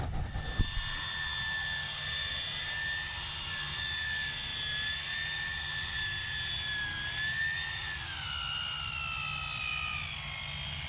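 Rotary polisher running at about 2200 RPM on a boat's topsides, a steady whining motor hum with sustained high tones that dip slightly in pitch near the end, loud and continuous after a brief knock at the start.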